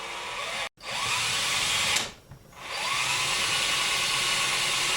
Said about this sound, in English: I'm going to go ahead and drill this out